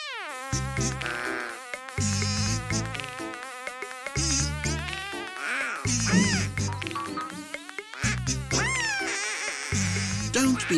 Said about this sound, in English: It's just a bee